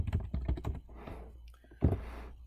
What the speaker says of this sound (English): So I can type in nail salon